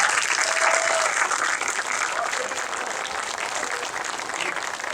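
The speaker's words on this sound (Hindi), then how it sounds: "जोरदार तालियों से उनका स्वागत है।" Steady, dense applause from a large theatre audience at a play, sustained loudly throughout with no pauses.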